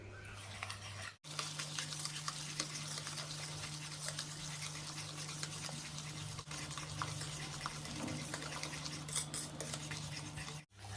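Powdered sugar and ghee being mixed in a bowl, a soft continuous scraping and stirring close by under a low steady hum, with a couple of brief gaps.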